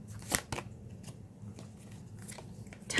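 Quick riffling bursts of tarot-style reading cards being shuffled, a few crisp flurries close by with quieter handling between them.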